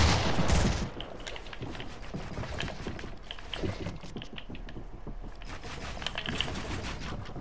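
Gunfire in the video game Fortnite: a sharp, loud shot at the start, then a long run of faint, rapid pattering shots and clicks, with no talk over them.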